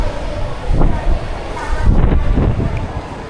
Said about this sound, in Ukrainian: Бо в тебе зараз його вирве з рук з таким вітром.